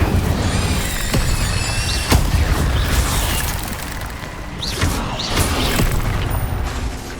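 Fire spell being cast in the video game Hogwarts Legacy, with a loud burst and whoosh of flame, then crackling bursts and impacts repeating through a busy, dense mix of game sound.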